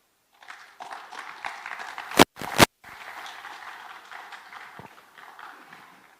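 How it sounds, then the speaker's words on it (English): Conference audience applauding, a steady wash of clapping across the room, broken by two loud sharp thumps midway, then continuing more softly. "Another round of applause, please"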